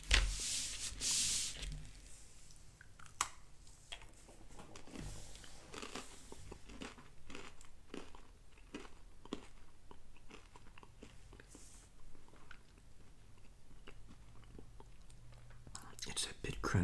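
Close, quiet crunching and chewing of crunchy pretzels, crisp bites repeating irregularly, with a soft breathy voice faintly present at times.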